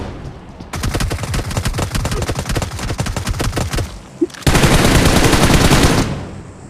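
Rapid automatic M416 rifle fire from the video game BGMI rattles in two long sustained bursts, separated by a brief pause, loud and close with no talk.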